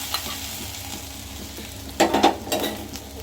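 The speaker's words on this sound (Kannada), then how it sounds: "ಈಗ ಇದು ರೋಸ್ಟ್ ಮಾಡ್ಕೊಂಡು ಕರ್ಬೇವಿನ ಸೊಪ್ಪು ಹಾಕ್ತಾ ಇದ್ದೀನಿ" Curry leaves and mushrooms sizzling as they fry in a pan for mushroom pepper dry, a steady close hiss with a louder burst of crackling and stirring partway through, no voices.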